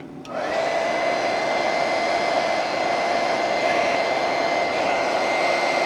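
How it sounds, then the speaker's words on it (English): A heat gun starts up and runs as a steady, loud blowing whine while warming the barrel of a 1940 Parker Duofold Vacumatic fountain pen, its tone holding constant to the end. "So out comes the heat gun, and let's give the barrel some heat."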